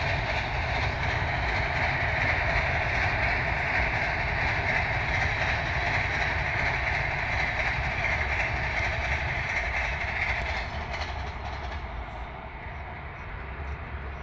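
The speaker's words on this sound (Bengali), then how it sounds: "ট্রেন যাচ্ছে।" A train rolls past a village garden in Haur, Purba Medinipur, West Bengal, with a steady rumbling roar and rail clatter holding for well over ten seconds before easing slightly at the end.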